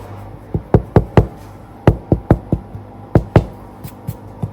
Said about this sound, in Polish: jak zapuka się w ten chleb